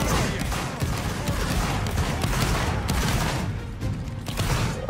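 A musket-style volley cracks out on command in a line-battle video game, dense overlapping shots with thuds and clatter continuing at moderate loudness for several seconds.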